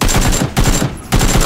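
Rapid bursts of automatic gunfire in the PUBG battle-royale shooter, loud and close, three volleys separated by brief pauses.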